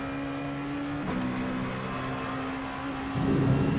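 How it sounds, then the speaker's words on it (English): Exhaust of a Dallara P217 LMP2 prototype race car in the iRacing game, a steady engine drone with harmonic tones and short crackling pops from the exhaust, loud and alone with no talking. "Kick back of the exhaust, or the exhaust spitting."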